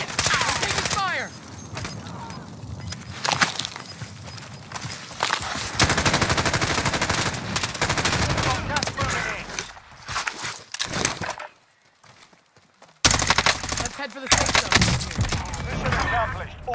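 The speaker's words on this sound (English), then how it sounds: "Taking fire." Dense bursts of automatic gunfire crackle through a video game shootout in a team battle royale match, nearly continuous and loud, dropping out briefly before resuming, with players' voices talking over the shots.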